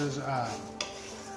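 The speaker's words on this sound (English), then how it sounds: "we're going to let that start to sizzle up just a little bit. Mix it around with the oil." Rice being stirred in hot oil in a pan for Mexican rice, a soft steady sizzle with scraping stir strokes and one brief clatter of the utensil near the end, close and alone.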